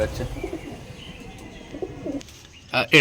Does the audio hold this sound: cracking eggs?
no